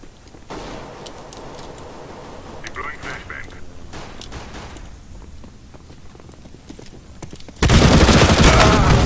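Counter-Strike: Global Offensive competitive-match gunfire comes as scattered sharp shots and short bursts under players' talk, then a loud, sustained barrage of fire at the very end.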